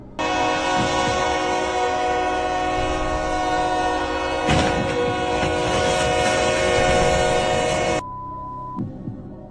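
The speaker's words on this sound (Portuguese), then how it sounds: "o trem atinge a carreta em cheio, provocando mais uma colisão impressionante" A train barrels through a level crossing and slams into a truck, a loud sustained horn blaring over heavy rail rumble, then a sudden cutoff leaving a quieter tone and a brief knock.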